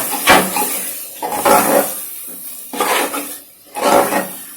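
Mustard greens being stirred into fried tomatoes in a pan, a spatula scraping and clattering against the metal in four loud rhythmic strokes, close by and with no talk.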